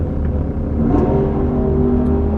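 A 2023 Chevrolet Corvette C8 Stingray, non-Z51, with an aftermarket air filter, cruises at a drag strip, a loud, close, steady engine rumble and drone that rises slightly in pitch partway through.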